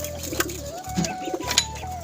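Caged pigeons coo softly nearby, low throaty calls rising and falling over a quiet background hum.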